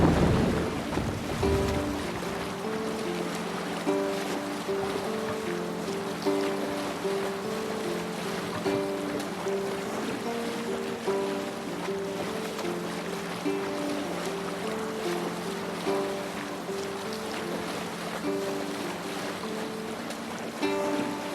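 Viking longship under sail at sea in the game Assassin's Creed Valhalla, with steady wind and waves washing beneath a layered musical score that runs throughout, fairly loud and continuous.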